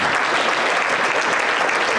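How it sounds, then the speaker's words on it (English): Dense, steady applause from a large audience at an economic summit, sustained at an even, loud level throughout with no voices standing out. "Let's give them another round of applause"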